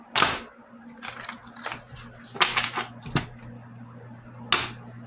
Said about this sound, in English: let's go ahead and shuffle these a little bit